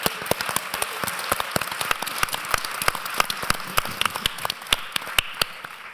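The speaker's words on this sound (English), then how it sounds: "So how about a round of applause for all those folks?" An audience at a Harvard University conference applauding, a steady spread of distinct hand claps at moderate distance, fairly thin and even for several seconds with no voices.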